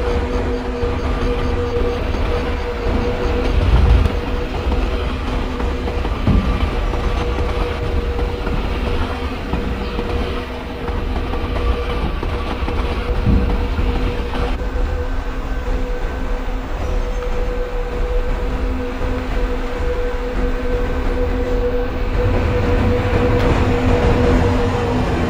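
A passenger train in the MSTS railway simulator game runs steadily on its rails, giving a continuous loud rumble with faint rhythmic clicking and no talk across the whole stretch.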